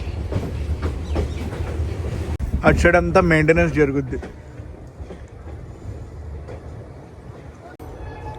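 A Guntur Rayagada Express train rolls steadily out of Visakhapatnam with a continuous low rumble and rail clatter. Someone talks over it, and a short tonal horn-like burst rises in the middle.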